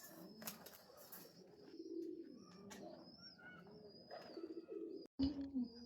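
Healthy, fresh pigeons kept with a clutch of five young birds coo in soft repeated rolls close by, with a few higher chirps and a sharp clatter near the end.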